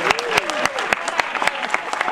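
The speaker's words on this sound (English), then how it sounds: "Let's have another round of applause for our contestant, AK." Audience applause for a contestant at a lively event, sharp irregular claps and whoops rising above a busy crowd, with voices and cheering mixed in throughout.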